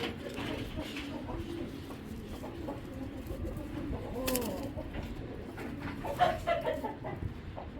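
A young male racing pigeon, a checker cock, gives soft cooing calls close by over a low background hum, with a few other faint bird sounds mixed in.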